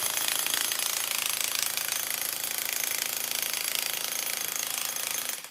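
A jackhammer drilling holes in concrete during demolition for an ADU build, a loud continuous hammering roar that is steady throughout and cuts off briefly at the end, with no voices.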